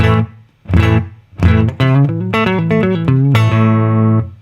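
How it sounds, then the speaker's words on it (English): Clean electric guitar notes through a Fender Deluxe Reverb amp with the reverb off, dry and close, a short melodic phrase with notes stopping cleanly and no lingering echo. "no reverb, it would sound like this"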